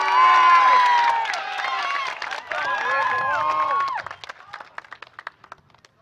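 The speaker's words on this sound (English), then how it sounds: "Can we just have one more round of applause for that amazing performance?" A crowd at a high school graduation cheers and shouts with clapping, loud at first, then thinning out to scattered claps and voices.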